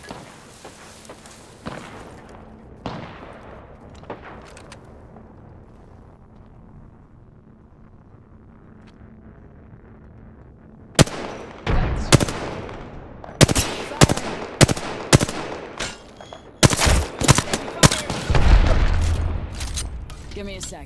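Bursts of gunfire from Apex Legends gameplay, with a quiet stretch giving way to repeated loud shots and booms clustered in the second half.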